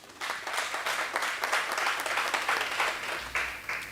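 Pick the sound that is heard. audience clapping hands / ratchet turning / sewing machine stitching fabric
audience clapping hands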